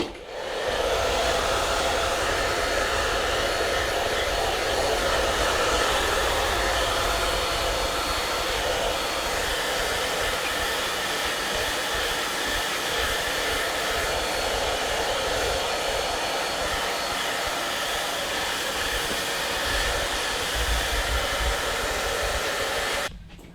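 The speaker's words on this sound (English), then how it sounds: "Now we're just gonna blow dry his hair and style it to the style that he wants." A hair dryer blow-drying a man's hair after a skin fade combover haircut, a loud, steady close-up whoosh running unbroken for the whole stretch with only slight shifts as the airflow moves.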